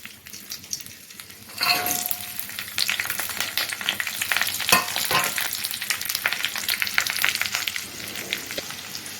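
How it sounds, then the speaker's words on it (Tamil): Cumin, pepper and ginger spluttering in hot ghee, a sudden close burst of crackling and popping that starts after a quiet moment and keeps sizzling busily to the end. "இப்போ இது வந்து நல்லா பொரிஞ்சிட்டு இருக்குது"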